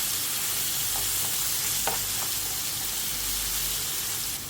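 Mutton sizzles steadily in hot oil in a pan with ginger garlic paste, a continuous close frying hiss with a few brief stirring clinks.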